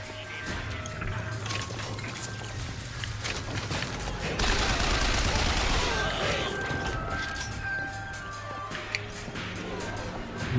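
Gunfire and crashing impacts in the video game BioShock Infinite, a dense continuous barrage with a louder burst midway, mixed with game noise and background speech.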